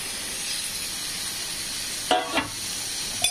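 Onions browned in a pan, then eggs added for egg bhurji, give a steady, close sizzle and hiss, with a few sharp scraping clatters of a spatula near the end.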